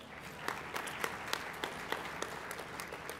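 Applause from an audience at a mayors' climate protection luncheon, a fairly quiet, steady patter of many hands with a few sharper individual claps standing out, heard alone without talk.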